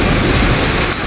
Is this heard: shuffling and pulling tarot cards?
no